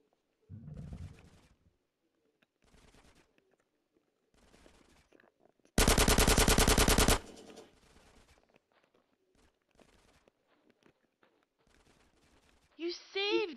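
Gunfire in GTA San Andreas: scattered short shots and bursts amid quiet, with one loud sustained automatic volley in the middle and a shout near the end.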